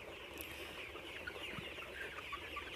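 Hens and roosters on a poultry farm cluck steadily among a dense, noisy backdrop of farmyard birds, with scattered short calls over a continuous hum throughout.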